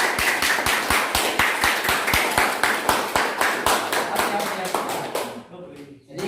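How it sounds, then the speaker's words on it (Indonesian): A small classroom group claps for a presentation in a brisk, evenly spaced rhythm of sharp hand claps, near and loud, stopping abruptly near the end. "kita beri aplaus dulu untuk kelompok 3"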